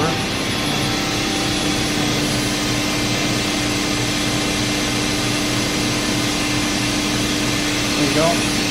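Spindle of a Mikron Bostomatic BD32-2G vertical machining center running at 1,000 RPM gives a steady, even whir with a faint high whine, unbroken for the whole stretch and close by.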